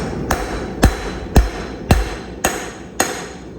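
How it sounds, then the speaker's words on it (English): A pre-annealed rivet on a pair of forged 1-inch flat/square blacksmith tongs takes six evenly spaced, sharp hammer blows, each ringing metallic strike loud and close with no voices. "I can preset that rivet just a little bit."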